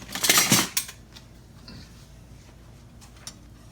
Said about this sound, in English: Let me get a ladle from here.